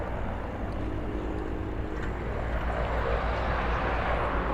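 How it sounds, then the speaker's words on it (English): Red Arrows jets landing at the RIAT Fairford airshow, a steady, distant broadband roar of jet engines rumbling continuously in the open air, with wind and traffic-like noise around it. "it's got the red arrows landing at the moment"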